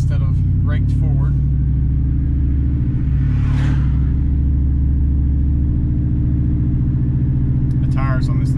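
A lifted truck with a freshly installed 3-inch spindle lift rolls over a rough ride, its engine and road noise forming a loud, constant low rumble inside the cab, with someone speaking briefly at the start and end.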